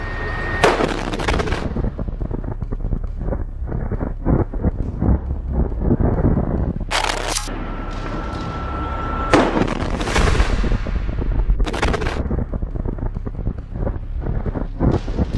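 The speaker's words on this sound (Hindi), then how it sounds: "रॉकेट लॉन्चर से हमला कर देते हैं, जिसमें जोरदार धमाका होता है" Heavy booming blasts and roaring bursts of rocket launcher fire in a war zone, over constant wind rumble, with several loud explosive surges spread across the recording.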